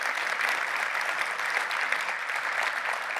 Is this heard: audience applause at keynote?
yes